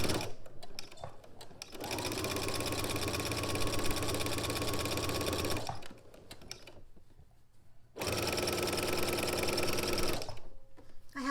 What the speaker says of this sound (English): I'm just on a straight stitch on my machine